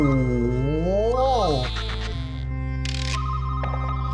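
In Incredibox The Depths (Sepbox V2), an eerie ghost telephone rings in a warbling, bell-like tone over a layered electronic beat and sustained droning notes.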